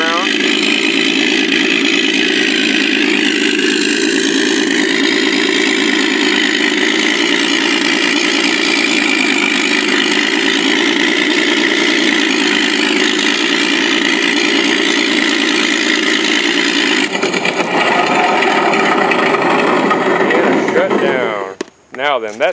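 A small high-revving engine on an FMS 1400 mm T-28 Trojan model airplane buzzes steadily and loudly for a long stretch, its pitch shifting slightly near the end before cutting out.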